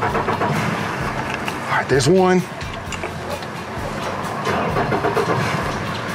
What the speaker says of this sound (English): Got our motors in the water. And now we can crank them up.